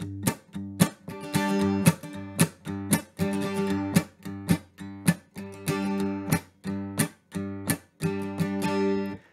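Lord Ramsey's Reel strummed at full speed in a bass-mute rhythm, a steady, loud run of sharp percussive strums with bass notes alternating against muted chops, played alone with no talking.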